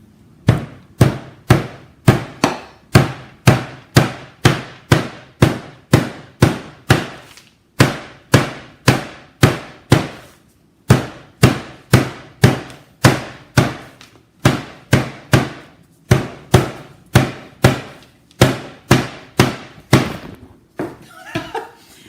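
Repeated sharp hammer blows strike metal to break a part off, at a steady, brisk rhythm, each loud and ringing briefly, continuing for a long stretch with only short pauses.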